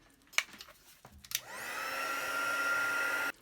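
A few soft clicks and taps come first, then a heat tool blows a steady, close whooshing hiss over embossing powder for about two seconds before it shuts off abruptly.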